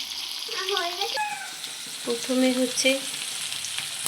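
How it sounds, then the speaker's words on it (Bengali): Garlic and onion fry in white oil with a little butter for a white sauce pasta, giving a soft sizzle under a brief spoken word and some stirring. "রসুন দিলাম, তারপরে পেঁয়াজ দিলাম, এটা একটু ভাজা ভাজা হয়ে এলে"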